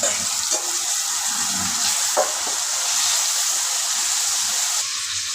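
Steady close-up sizzling hiss of masala with yogurt frying in a pan for egg curry, with a few soft scraping stirs and no talking.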